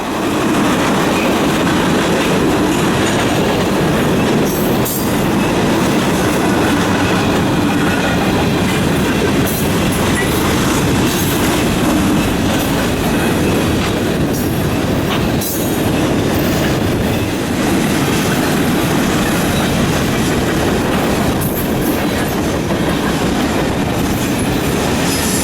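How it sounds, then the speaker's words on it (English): An eastbound freight train led by two General Electric locomotives rolls past the Durand depot on the Flint Subdivision. It makes a loud, continuous roar with repeated clickety-clack wheel beats and occasional squeals, and no voices are heard. "two General Electric units lead an eastbound train on the Flint Subdivision past the Durand"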